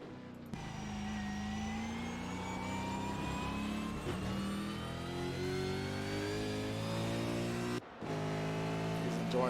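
Race cars in a Supercars racing video game roar into turn one, engine notes rising and falling through gear shifts as several cars scream past, loud and continuous, with a commentator's voice underneath.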